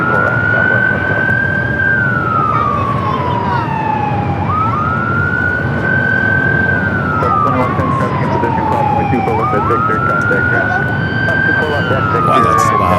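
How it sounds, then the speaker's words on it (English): Emergency vehicle sirens at LAX airport wail loudly and steadily in long rising and falling sweeps, with a constant roar of traffic and engine noise underneath. "A lot of sirens this morning."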